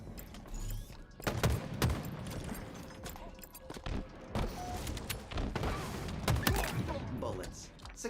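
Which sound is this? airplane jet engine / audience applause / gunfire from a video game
gunfire from a video game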